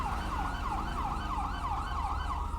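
An ambulance siren in the police mod LSPDFR for Grand Theft Auto V wails continuously in a steady, rapid up-and-down yelp, loud and close, with engine rumble beneath.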